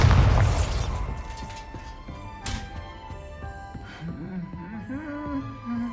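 A Bombarda explosion spell in Hogwarts Legacy bursts with a loud, deep boom at the start, then a sharp crack follows and rumbling debris fades beneath a tonal game score.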